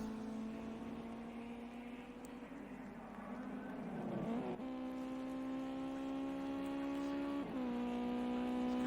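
A Ginetta Junior race car at Snetterton circuit, a single engine drone holding a steady pitch, dipping and shifting briefly around gear changes before settling again; moderately distant, with no talk.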